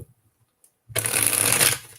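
Tarot cards are riffled in one quick burst after a near-silent pause, a close, crisp flurry of flapping lasting under a second before it trails off.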